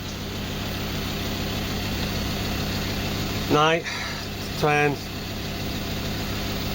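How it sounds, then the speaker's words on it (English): A bus engine idles steadily throughout, a low continuous hum, while someone speaks briefly over it. "that's just the engine running."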